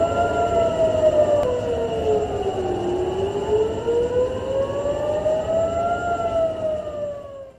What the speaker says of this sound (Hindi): बहरीन में हमले के सायरन बजने लगे हैं।